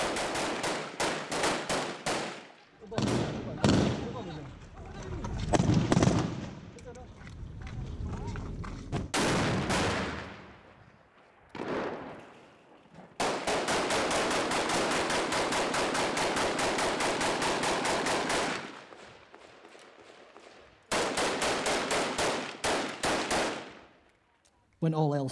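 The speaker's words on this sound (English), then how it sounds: "IS return fire." Kurdish forces and IS fighters exchanging gunfire in the ruined alleys of Raqqa: loud sustained machine-gun bursts and scattered shots, with long continuous automatic volleys and brief pauses between them.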